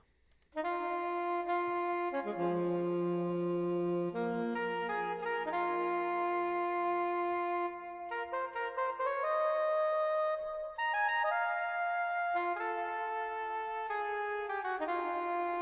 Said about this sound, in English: it's the soprano saxophone MF. Here's what it sounds like